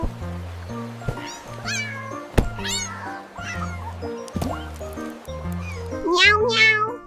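Cat meows, several short rising and falling calls that come in bursts and cluster near the end, over steady background music in an outdoor picnic and camping scene with a mother cat and two kittens.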